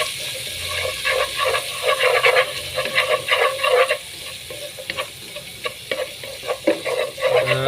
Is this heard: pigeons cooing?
no